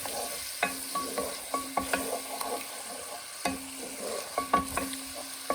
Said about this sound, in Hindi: और अच्छी तरह से हमें ये मिलाना है।